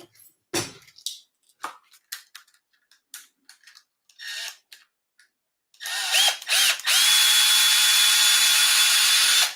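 Small Milwaukee or DeWalt cordless drill used while reloading 30-30 brass, preceded by scattered clicks and handling scrapes, then a close, steady high whine running for several seconds.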